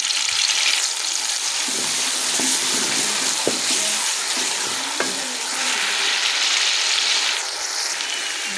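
Grated onions hit a cup of hot oil for a dal recipe, giving a loud, bright sizzle with scattered pops and a few stirring clicks as the frying keeps going.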